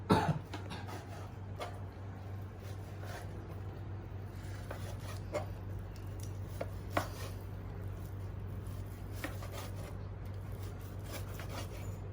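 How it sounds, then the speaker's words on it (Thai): Faint, irregular knife taps on a cutting board as beef is chopped into medium pieces, set against a steady low background hum. "วิธีการคือหั่นเนื้อ ก็ชิ้นเท่าเท่ากับแกงเนื้อนะครับ"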